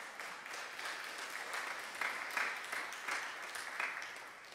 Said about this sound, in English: Give our graduates another big round of applause.